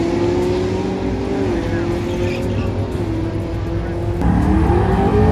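An LS-swapped mail truck races at a drag strip, its engine holding a loud, steady drone that climbs in pitch, with a sharper surge of power near the end, close by and continuous under faint voices.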